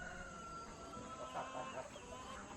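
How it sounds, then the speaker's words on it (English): Free-range chickens clucking softly in a homestead yard over a steady outdoor hum, a few birds murmuring at a moderate distance without a break. "We can get more of these free-range chickens in those yards."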